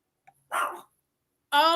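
Dogs barking in a domestic setting: one short bark followed after a pause by a louder, clearer bark, close and alone without talk.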